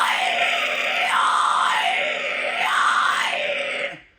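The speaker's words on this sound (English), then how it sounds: "They're all just fry screams." A vocalist demonstrates fry screams for a snarl technique, one continuous harsh, gritty scream sustained for about four seconds with a rhythmic wavering in tone, alone and close, ending abruptly.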